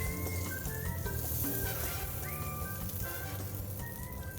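Portobello mushrooms cook in oil in a pan with a steady, continuous sizzle, while music plays along underneath.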